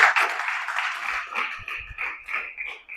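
A church congregation claps during a sermon, a brief burst of hand clapping that starts loud and fades within a few seconds, with faint low thumps underneath.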